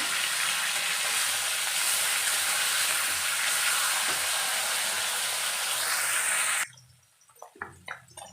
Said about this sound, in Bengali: এই পাটটাকেও ভালো করে আমি ভেজে নেব